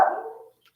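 A single sharp dog bark, fairly close, ringing out briefly before falling silent.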